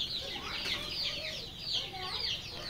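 Young layer and desi chicken chicks peep continuously in high, rapid chirps, a busy overlapping chorus at close range with a faint background hum.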